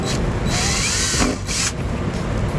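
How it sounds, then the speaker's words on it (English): A power drill bores two holes through a plastic bumper fascia on a 2015 Jeep Patriot, with two loud, sustained whirring bursts separated by a short pause over steady garage background noise. "I'll go ahead and drill the 2 holes."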